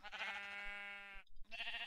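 Sheep on a Minecraft sheep farm bleat close by, one long wavering bleat followed after a brief pause by a second shorter one, clear and alone with no talk.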